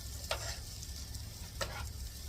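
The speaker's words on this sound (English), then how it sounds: "I'm going to stir these around. And then I'll show you. We're going to sweat these down." Mushrooms sweating down in a pan hiss with a soft, steady sizzle while a spoon stirs them, giving two brief scraping sweeps at close range.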